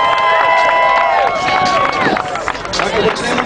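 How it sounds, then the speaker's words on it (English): An audience at a hot body contest cheers loudly in a close, continuous burst of whoops, shouts and crowd noise. "Brittany, now send us your applause."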